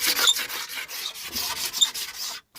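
A blade scrapes 151 filler across a hand-made wooden skirting board in quick, rasping, rhythmic strokes, close and fairly loud, with no voices.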